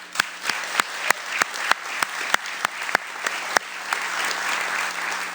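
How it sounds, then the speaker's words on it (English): Audience applause at a sports Dream Team honors event, with a few sharp, regular nearby hand claps standing out over a lighter crowd clapping throughout. "Round of applause."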